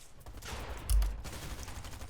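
Bursts of SMG fire in a Fortnite duo tournament match, a loud volley of rapid shots peaking near the middle over a steady backdrop of game noise.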